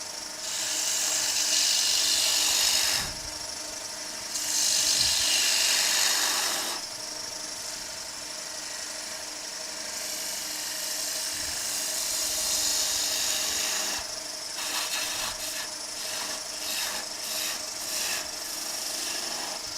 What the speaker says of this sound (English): Turn that lathe speed up a wee bit.